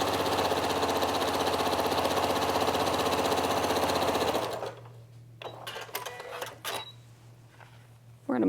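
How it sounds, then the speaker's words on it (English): A sewing machine stitches down the edge of a thick fabric coaster with red thread, a steady rapid mechanical whir for about four seconds that stops, followed by faint handling noises and a low hum. "I'm just going to sew down that edge"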